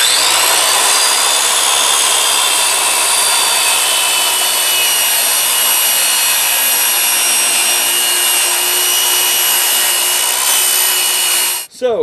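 A saw runs steadily through an MDF board, cutting it down to a manageable size for a flood-damaged Pac-Man arcade cabinet restoration. The loud, continuous whine and rasp last about eleven seconds before the blade spins down abruptly.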